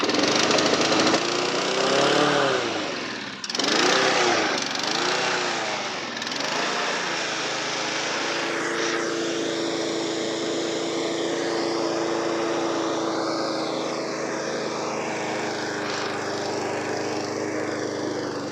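A Honda HR173 lawn mower engine runs with a steady, buzzing drone. It is loud and uneven at first, then settles into an even idle-like hum for the rest of the stretch.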